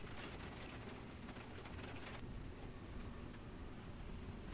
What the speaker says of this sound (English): Getting stuck in the rain like this would not be fun.